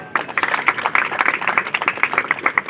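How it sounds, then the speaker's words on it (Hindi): An audience at a Teacher's Day celebration at a school claps in a short, lively burst of applause, many hands close together, fairly loud and continuous. "आधी शायरी पर ताली बजी है,"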